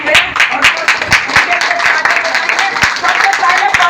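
An audience at an Easter Sunday church service claps steadily and densely, near and loud, with a voice speaking over the applause.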